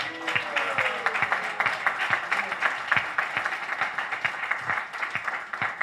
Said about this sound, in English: please give a big applause to our Ramacharya Prabhu